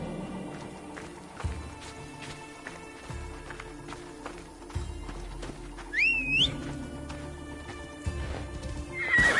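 A horse in the Assassin's Creed Odyssey video game gallops with steady hoofbeats, and a clear whinny rings out midway, all mixed with game ambience and no talking.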